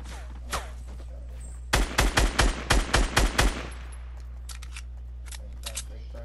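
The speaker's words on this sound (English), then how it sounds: "Shooting at me." Rapid bursts of gunfire from another player in Fortnite, about eight sharp shots in quick succession at close range, followed later by fainter scattered shots, with game ambience underneath.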